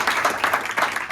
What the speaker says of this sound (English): I'd like to get a round of applause for our speakers.